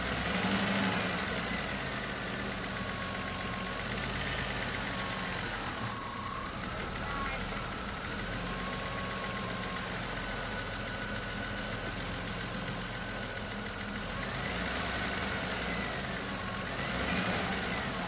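Engine of a 1997 Dodge Grand Caravan SE, left on a farm for more than four years, running steadily at idle as the transmission is shifted into gear, with people talking nearby over the continuous rumble.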